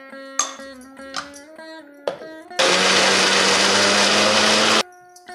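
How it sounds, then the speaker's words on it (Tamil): A kitchen mixer grinder blends almonds with a splash of milk in one loud, steady burst of about two seconds, preceded and followed by the lower hum and clicks of the motor starting and stopping. "கொஞ்சம் பால் விட்டு அரைக்கிறேன், அப்போ தான் ஸ்மூத்தாக அரைக்கும்"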